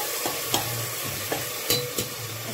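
Tomato paste fries in curry masala for a spicy mutton curry, a continuous close sizzle broken by several sharp scrapes and taps of a spatula against the pan.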